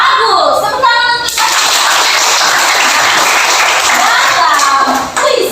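Loud, dense clapping from a group fills several seconds, with a voice speaking briefly before it begins and again as it fades.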